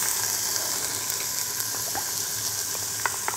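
Poblano peppers sautéing in an Instant Pot on the sauté setting give a steady, soft sizzle and crackle with a few brief pops, close and continuous with no talking.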